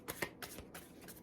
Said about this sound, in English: Been wanting to shuffle cards for a week or so now.